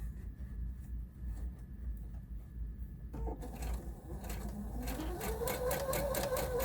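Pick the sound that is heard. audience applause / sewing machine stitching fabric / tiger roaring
sewing machine stitching fabric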